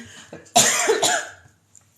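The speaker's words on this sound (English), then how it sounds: "I'm about to cough." A woman lets out a single sharp cough from her throat, close and fairly loud, followed by a brief quiet.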